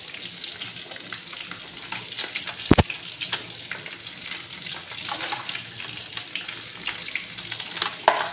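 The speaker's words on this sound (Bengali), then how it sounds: "ফুলকপিটা লাল করে ভাজা করব, পুরো লাল করে ভেজে নেব ফুলকপিটাকে।" Cauliflower fries in a pan with a continuous crackling sizzle and scattered pops, close and clear. A sharp clink of a utensil stands out midway, and no one speaks.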